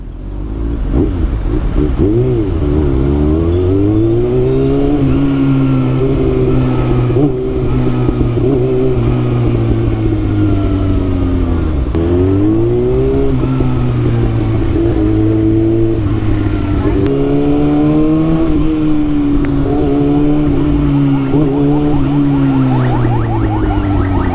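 Car traffic on a road toward Marikina forms a loud, close engine drone that swells and dips in pitch as vehicles accelerate and ease off, with no talking.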